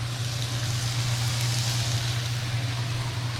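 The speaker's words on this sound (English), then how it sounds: "Let's turn on my vent fan." A steady low hum with an even airy whoosh from a kitchen vent fan running continuously nearby, with no voices.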